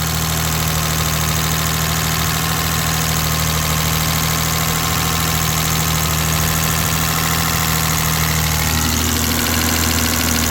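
The engine of a BMW E32 idles loud and close after repairs to its cooling system, a steady hum with an even low rumble and a slight shift in tone near the end.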